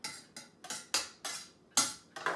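A pan holding garlic and olive oil clanks onto a stove, a series of about seven sharp, close metallic knocks and scrapes in an uneven rhythm, with no one talking.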